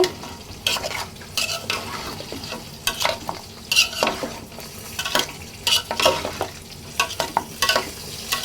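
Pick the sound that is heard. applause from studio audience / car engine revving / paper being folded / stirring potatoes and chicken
stirring potatoes and chicken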